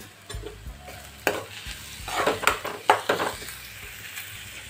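A spoon stirs turmeric and chili powder into a sizzling egg puff filling in a pan. Frying crackle runs throughout, with a few spoon scrapes and knocks that grow busier toward the middle.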